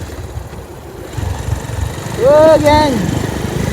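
A motorcycle engine runs steadily with a low, even rumble on a foggy morning ride, while a voice speaks and calls out briefly over it.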